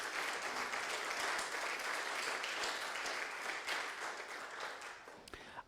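A church congregation claps together in thanksgiving during a Spanish-language Lord's Supper service, a sustained, fairly distant wash of applause that holds steady and then thins out toward the end.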